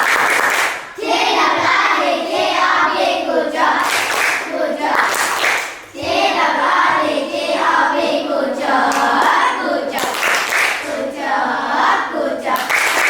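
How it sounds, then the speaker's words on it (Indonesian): A group of participants claps together in a classroom-style session, loud bursts of hands that pause briefly and resume, with some children's and adult voices mixing in between the clapping. "Beri tepuk tangan yang meriah untuk kelompok 3"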